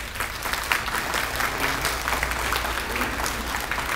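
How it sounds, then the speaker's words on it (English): Students applaud throughout an elementary school dedication ceremony, a steady, dense wash of clapping from a large group filling the space at an even level with no talk over it. "I'm gonna need you to clap from side to side."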